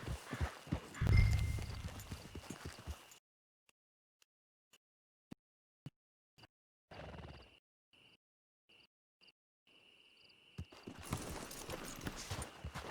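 Horse hooves clip-clop in the Red Dead Redemption 2 game, with a busy stretch of trotting steps at the start, then near silence broken by scattered isolated taps, before the hoofbeats and ambient noise return at the end.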